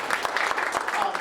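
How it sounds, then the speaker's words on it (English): A brief burst of audience applause at a community wildfire preparedness meeting, many hands clapping in a short, dense patter. "give them a little applause"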